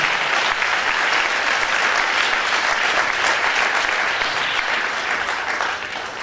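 Applause from a church congregation for visiting missionaries: a broad, sustained wash of clapping from many hands, steady and fairly loud, tapering slightly at the end.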